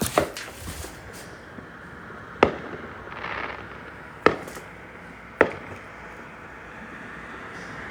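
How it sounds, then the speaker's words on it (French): Distant fireworks pop and bang in sharp, scattered bursts, four or five separate reports with faint crackling between them outdoors. "Il y a des feux d'artifice, regardez!"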